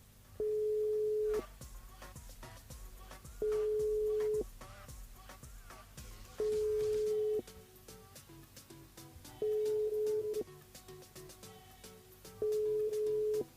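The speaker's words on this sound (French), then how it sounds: "Dernière sonnerie." A telephone ringing out during a live French radio call-in show: five evenly spaced steady ring tones about three seconds apart, each roughly a second long, over a low background hum.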